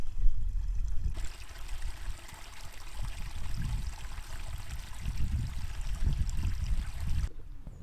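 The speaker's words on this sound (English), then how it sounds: "the walk continues alongside this pretty little stream" A small, pretty stream beside a countryside walking path runs with a continuous close trickle and babble, steady and fairly loud throughout, with no voices.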